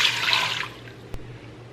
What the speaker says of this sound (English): Into here, we're gonna add 2 cups of warm water